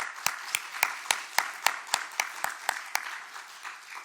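A church congregation claps for its young generation of volunteers during a sermon, a steady, evenly spaced rhythm of crisp claps in near unison, moderately loud and close, with no talking over it.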